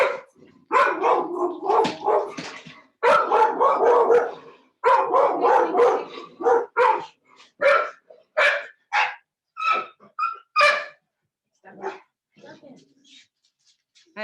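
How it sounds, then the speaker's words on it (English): An older dog barks repeatedly at a stray running through the neighborhood, loud close yips and barks in irregular bursts, mixed with a person talking over it. "There's a stray dog running around my neighborhood this morning, and my older dog is very unhappy about that."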